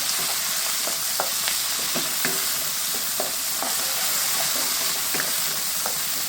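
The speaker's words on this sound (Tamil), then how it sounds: "ஓரளவுக்கு வதங்கினா போதும், கருக வைக்க வேணாம். வெங்காயம் வந்து ப்ரௌன் ஆக வேணாம்." Onions sautéing in a pan for a village-style fish curry, with a loud continuous sizzle and regular clinks and scrapes of a spatula stirring, close and without voices.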